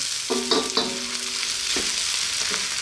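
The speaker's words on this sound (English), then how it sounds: "So as you can see we've softened these onions, got a nice little bit of colour on them." Softened, lightly browned onions sizzling in a pan while being stirred, with several sharp scraping knocks of a utensil against the pan over a steady, close frying hiss.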